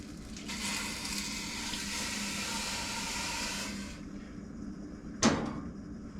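Dark gumbo roux sizzling steadily in a pot as chicken broth is poured in, a hissing bubbling wash that fades out, followed by a short sharp clatter.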